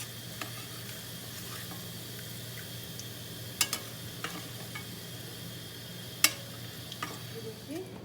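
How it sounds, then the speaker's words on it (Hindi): Onions browning in hot oil in a pan give a steady, moderately loud sizzle, with a few sharp clicks and scrapes of stirring scattered through it and no voices. "ये मैंने अनियंस को फ्राई कर लिया है।"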